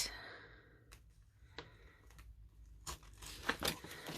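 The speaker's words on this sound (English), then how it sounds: "I'm going to push it so it gets right the way to the bottom of the awl, because I want to make a nice big hole." An awl is pushed through paper to make a hole for a no-sew journal binding. Soft, faint crinkles and scraping crunches come in a few short bursts, with quiet breathing in the background.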